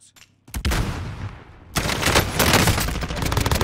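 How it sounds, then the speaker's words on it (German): Sniper shots and bursts of automatic gunfire in the online shooter Call of Duty Warzone, starting with a sharp crack and building into dense, continuous loud firing. "Wo kamen die Schüsse?"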